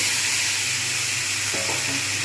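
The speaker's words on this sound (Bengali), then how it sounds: "এই যে ওলকপিগুলো রয়েছে এটা সবটা আমি এর মধ্যে ঢেলে দেব" Kohlrabi for a Bengali winter chhechki hits hot oil in a pan, giving a loud, continuous close-up sizzle with a brief stir toward the end.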